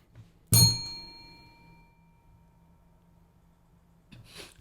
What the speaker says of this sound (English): You rang the bell.